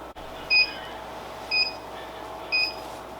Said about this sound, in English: our press is at the 400 degrees, thus the beeping